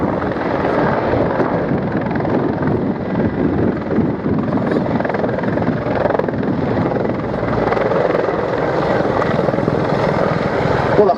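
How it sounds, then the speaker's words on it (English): A Mil Mi-24 Hind helicopter flies at the Biggin Hill airshow, a loud, close, continuous rotor thrash and turbine roar that stays strong for the whole stretch. "Well, the Hind is certainly bossing it out there, like a very angry mother looking after its babies."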